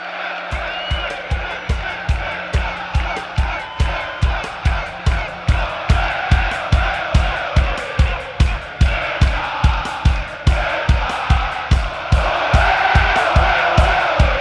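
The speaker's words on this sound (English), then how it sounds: "that sort of gets the crowd to get excited and get some big Olay chants to follow" A large concert crowd at a show in Bogotá chants Olé, with steady rhythmic pulses of clapping and voices repeating at a quick, even beat throughout, loud and diffuse.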